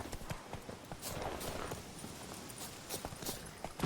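Horse hooves clip-clop at a steady trot in The Witcher 3: Blood and Wine, a brisk rhythmic patter of close footfalls on the ground with a little background ambience.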